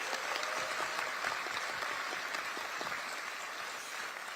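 Audience applause at a Korean political party gathering for local government candidates, steady sustained clapping from a crowd, moderately distant and even in level for the whole stretch.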